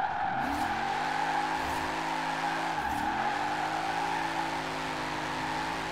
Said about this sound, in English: I just want to do a quick drift around the roundabout and see how it goes